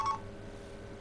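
Telephone dialing tones from a Skype call, a short DTMF beep at the very start followed by a steady low hum, fairly quiet and alone.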